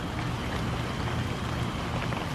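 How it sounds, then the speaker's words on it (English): Steady rain falls outdoors during an antenna test, a dense, even patter of drops holding at the same level throughout with no voices. "the rain, which all of a sudden, this is what I have to deal with"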